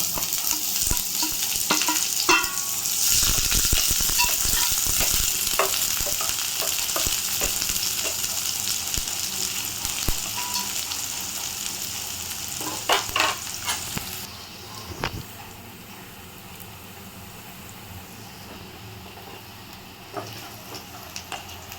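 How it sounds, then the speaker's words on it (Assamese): Chopped onions frying with a torn bay leaf and a small chili in a pan for banana flower gravy, a steady loud sizzle with scraping stirs, quieting and thinning out toward the end. "তেজপাত এখিলা টুকুৰা কৰি লৈ দিব, কণ জলকীয়া এটা দিব, তাৰপৰা কুটি থোৱা পিঁয়াজখিনি দিব"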